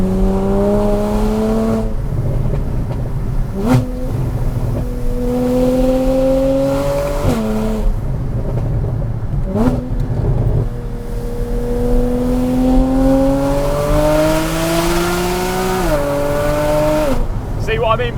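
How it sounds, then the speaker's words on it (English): A Porsche Cayman fitted with a Ninemeister exhaust, driven in Sport Plus mode, roars loudly and close as it accelerates hard, its engine pitch climbing and then dropping sharply at each quick upshift, with a voice speaking over it. "Very much no pops on the upshift, just literally through, straight to the next gear."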